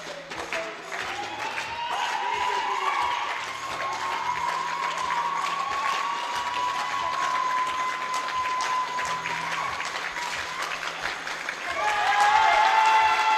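Spectators at a men's junior solo air rifle championship applaud and cheer loudly in an indoor hall, sustained clapping with shouts and whistles for over ten seconds, swelling louder near the end.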